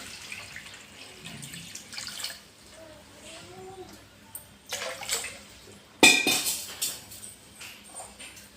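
Water poured into a pot to cover eggs for boiling, heard as quiet intermittent splashes and trickles that build into louder gushing bursts toward the end.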